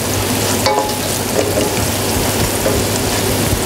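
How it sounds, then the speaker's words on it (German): Carrots and celery for a mirepoix fry in a pot as the first step of braised lamb shanks, giving a steady, loud, dense sizzle and crackle throughout with no talking. "Lassen Sie es schön anbraten"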